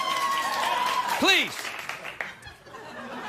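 Studio audience on a late-night talk show applauding for a few seconds, a light spatter of claps and some chuckles mixed with a host's talk, thinning out toward the end.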